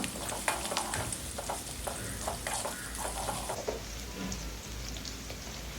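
Shallots, garlic cloves, curry leaves and green chilies sizzling and being stirred in hot oil for a Tamil fish curry, a steady crackling fry with scraping stir strokes throughout.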